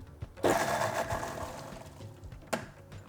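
A blender pulsing a chicken tikka marinade, a loud whirring motor burst of about two seconds that cuts off, then a short second pulse, heard close and alone.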